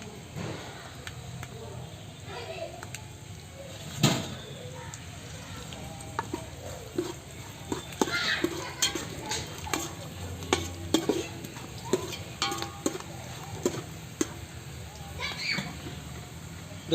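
Chana dal frying in oil and being stirred in a pan while making upma, a soft sizzle under scattered scrapes and clinks of a spoon against the pan, fairly close and without talk.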